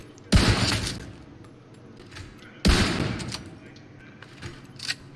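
Two loud, booming sniper rifle shots ring out in The Division 2, about two seconds apart, each with a long reverberant tail. Fainter clicks and smaller impacts follow.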